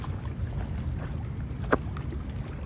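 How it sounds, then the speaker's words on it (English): Three center console motorboats pass along Whiskey Creek in Fort Lauderdale, a steady low engine rumble and water wash at moderate distance with light wind. "Well, three boats coming actually, all of which look to be center consoles."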